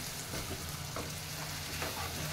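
A masala of chilli, coriander and turmeric powder with tomato, for chana masala, fries with onions in hot oil, making a steady loud sizzle and crackle close up, with soft stirring and no talking.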